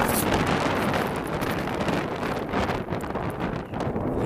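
Strong wind buffets the microphone at an outdoor amateur football match, a steady loud roar with gusty surges and dips and no voices.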